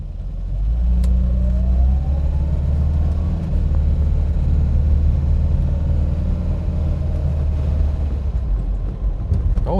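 A Ford Cortina Mk3 pulling away in drive, its mid-pitched engine rumbling loud and close as it accelerates steadily, with a rising whine and continuous road rumble, no voices.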